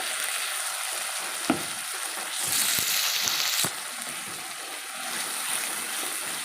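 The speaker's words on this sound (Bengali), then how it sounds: "আলু ভাজা হয়ে গেছে, এবার মশলা দিয়ে দেবো।" Fried potatoes sizzle in hot oil as a ground paste of ginger, cumin, onion and garlic goes in, a steady close frying hiss with a louder surge midway and a few sharp stirring knocks, no voices.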